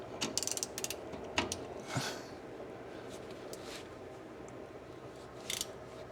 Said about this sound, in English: Let's just see if we put the ratchet in there, what exactly will happen here.